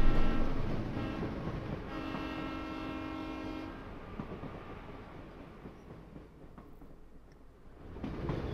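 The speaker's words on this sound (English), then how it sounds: "Layton and the others reboard the train, and with that they speed off toward their next stop" A train in Professor Layton and the Diabolical Box pulls away with a brief horn blast, then wheels rumble and clatter on the rails as it speeds off and the sound gradually fades.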